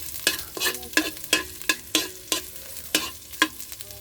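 A spatula stirs bell pepper and annatto in a sizzling frying pan, about a dozen regular scraping strokes roughly every third of a second over a low background fry.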